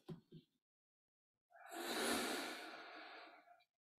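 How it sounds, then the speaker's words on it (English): A single long, breathy exhale through the nose, close and soft, rising and fading over about two seconds after a brief pause. "Breathing in through the nose and out through the nose,"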